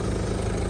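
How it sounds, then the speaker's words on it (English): A Ford car engine idles in a steady, close, loud low rumble that holds unchanged throughout the brief moment, with no voices. "And again, engine runs perfect."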